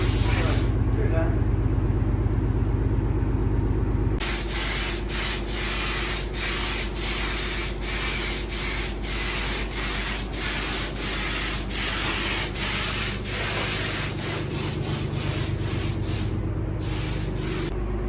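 Spray painting an FV432 armoured vehicle: a steady hiss runs throughout, joined after a few seconds by a series of regular bursts and pulses of spray, close and loud.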